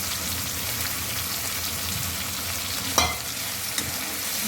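Chopped onions sizzle steadily while being stirred in a pan for a pointed gourd curry, with a continuous frying hiss, a brief louder scrape of the spoon near the end, and no talking.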